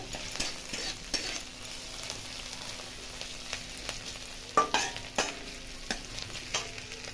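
Chopped onion and garlic frying in a pan for potato mash, stirred now and then: a soft, even sizzle in the background with scattered spatula scrapes and clinks, fairly quiet and without speech.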